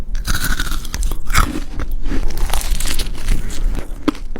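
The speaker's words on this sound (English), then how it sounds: "It's like a very tender crunch." Someone bites into a flaky creme brulee croissant with a caramelized sugar top, a close, loud run of crisp crunches and chewing with crackly crinkles, with no talk.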